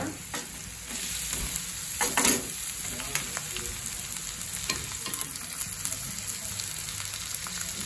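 Half a kilo of boneless chicken fries in a pan for a granny-style chicken fry, a steady close sizzle with occasional scraping stirs and spatters.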